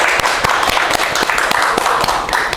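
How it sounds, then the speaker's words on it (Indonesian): A studio audience claps in a dense, loud round of applause that stays steady throughout, with sharp individual claps standing out. "Tepuk tangan dulu dong"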